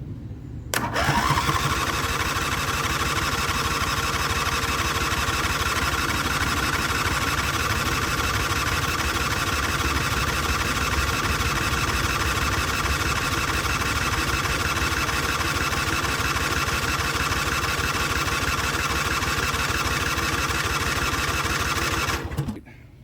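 A 25-year-old V-twin lawn tractor engine, started straight off the battery, catches almost at once and runs at a steady, loud, close idle for about twenty seconds before shutting off.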